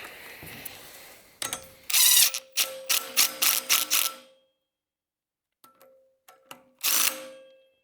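A ratchet clicks in quick bursts of rapid strokes while bolts are tightened during reinstallation of a portable generator rotor. The bursts are crisp and close, separated by pauses, and there is no talk.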